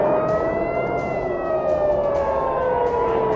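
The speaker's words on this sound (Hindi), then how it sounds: "इजराइल के कई शहरों में रात से ही सायरन बजना शुरू हुए," Air raid sirens wail over Israeli cities during an attack, a loud sustained rising-and-falling tone with layered pitches drifting slowly, heard alone.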